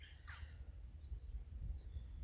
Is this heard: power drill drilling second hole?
no